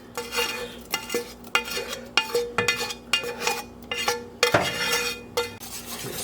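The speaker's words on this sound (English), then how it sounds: "Stir that in." Bacon and onion being stirred into a thickening mustard-seasoned mac and cheese sauce in a pan, with steady scraping and clinking of a utensil against the pan over a soft sizzle, close and continuous.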